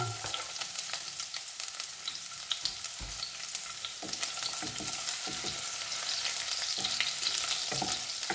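Garlic fries in hot oil until browned, a steady close sizzle with repeated scraping and stirring knocks from a utensil against the pan.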